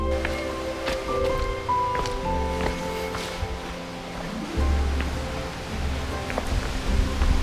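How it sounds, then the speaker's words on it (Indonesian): A clear, cold stream flows between rocks along the route to a hidden waterfall in a village with several falls, giving a steady, fairly close rushing wash of water under faint tonal background sounds. "Air yang jernih dan dingin mengalir di sela-sela batu"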